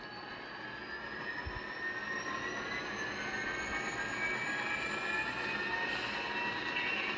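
HO scale Atlas Reading #3418 EMD GP39-2 model locomotive with an ESU LokSound decoder notching up to a higher speed step, a steady diesel engine drone with rising whining tones, close and continuous, no talking.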